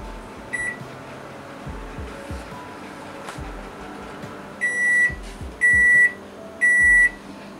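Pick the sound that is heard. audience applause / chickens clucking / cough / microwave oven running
microwave oven running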